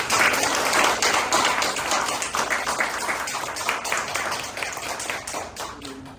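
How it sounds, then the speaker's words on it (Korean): A church congregation applauds during a Sunday worship service, a dense, steady wash of many hands clapping close by that slowly fades toward the end. "우리 하나님께 영광의 박수 올려드립니다"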